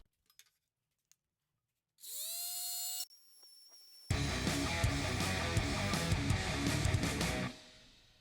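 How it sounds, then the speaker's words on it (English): An electric sander files down a sharp edge on a homemade suspension-trainer handle, whirring up briefly, pausing, then grinding loudly and steadily for several seconds before stopping. "we'll just take an electronic sander and just file"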